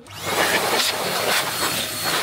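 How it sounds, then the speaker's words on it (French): A compressed-air blower hisses steadily and loudly as it blows dust out of a desktop PC, the rushing noise swelling slightly in short bursts. "Donc on souffle les PC pour retirer toutes les poussières qui auraient"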